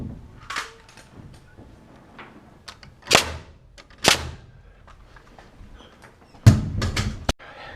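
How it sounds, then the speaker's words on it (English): Someone nails a wall brace during house framing, striking several sharp, loud hammer or nail-gun hits spaced a few seconds apart, with quieter knocks and handling noise between them. "I actually nailed that too close to the exterior wall there"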